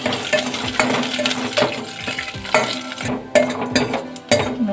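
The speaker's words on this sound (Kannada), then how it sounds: "ತುಪ್ಪದಲ್ಲಿ ಗೋಡಂಬಿ ಮತ್ತು ಬಾದಾಮಿ ಹಾಕ್ಕೊಳ್ತಿದ್ದೇನೆ" Cashews and almonds frying in ghee in a pan for beetroot halwa, a light crackling sizzle under repeated clinks and scrapes of a spoon stirring against the metal, close and busy, no voices.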